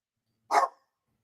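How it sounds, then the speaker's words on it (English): A single short dog bark, clear and fairly close, sounding alone against silence, the dog reacting to landscapers working outside. "The dogs are barking at the landscapers are working outside doing the landscaping."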